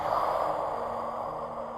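Breath released slowly during a youth yoga class, a soft, broad airy exhale lasting under two seconds, steady and fairly close.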